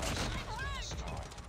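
Gunfire from a handgun-style weapon in the mobile shooter game Call of Duty Mobile, a dense rattle of shots with busy game effects, heard alongside a voice talking.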